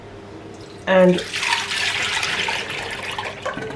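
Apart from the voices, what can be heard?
strained orange cooking water being poured for marmalade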